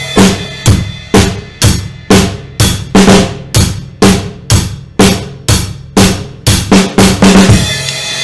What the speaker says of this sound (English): we're going to do a quarter note hi-hat pattern.